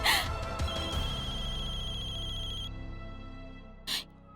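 A mobile phone rings with an incoming call, playing a sustained electronic ringtone for a few seconds before it cuts off. A short sharp sound follows in the quiet afterward.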